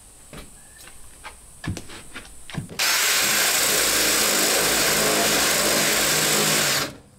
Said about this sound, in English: I'm going to try a Forstner bit